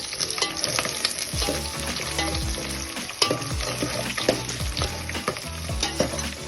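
Onions frying in a pan for a vegetable pulao, with a bright continuous sizzle and repeated scraping strokes of a spatula stirring them, close and fairly loud.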